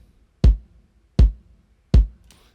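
Three evenly spaced hits of a blended kick drum for an African worship beat, two samples layered into one punchy thump with a sharp attack and deep low tail, alone with silence between.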